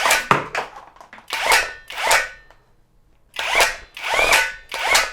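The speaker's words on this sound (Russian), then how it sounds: "Режим сверления. Ну, вот так он крутит." A KAIDA cordless drill in drilling mode spins a Motoshtorm 130 ice auger in several loud, whirring bursts separated by short pauses, with one longer silent gap midway.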